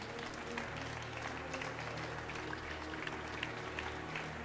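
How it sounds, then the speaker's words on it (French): Applause for Virginie at a televised village campaign event in Bletterans, faint and distant, a steady patter of clapping over a low hum. "on vous applaudit tout à fait"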